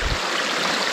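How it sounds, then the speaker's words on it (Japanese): Flowing mountain stream, the Kuta River in northern Kyoto in early February, a steady broadband rush of water that stays close and even throughout with no voices. "京都市最北端の渓流九田川にやってきました。"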